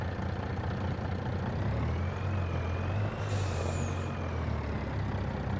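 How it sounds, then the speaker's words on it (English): A heavy logging truck engine rumbles steadily while a thin turbo whine slowly climbs in pitch as it spools up, then a sharp burst of air hisses briefly before fading. "listen to the turbo spool up"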